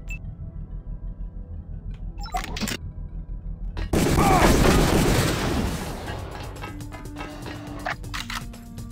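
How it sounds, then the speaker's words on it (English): A rocket strikes a turret in Deus Ex with a loud, sudden blast midway, the roar decaying over a couple of seconds after a stretch of rhythmic mechanical pulsing and brief metallic clanks. "I'm gonna have to rocket this turret"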